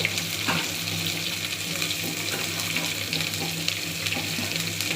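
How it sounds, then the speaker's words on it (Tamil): Sliced onions fry in ghee for chicken biryani, a steady bright sizzle with soft stirring scrapes, close and continuous throughout. "இதை வெங்காயத்தை நல்லா வதக்கிக்கிடணும்."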